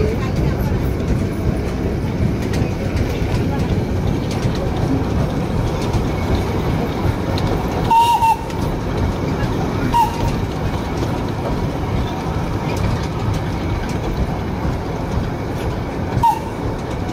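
Darjeeling toy train running back the other way around Batasia Loop in Darjeeling, a steady close rumble of wheels on track with brief high wheel squeals at intervals.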